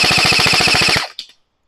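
A LeHui HK417D toy gel ball blaster runs on an 11.1V battery, firing a fast, loud, close burst of about fourteen rapid shots with a motor whine, then stopping abruptly with a brief click.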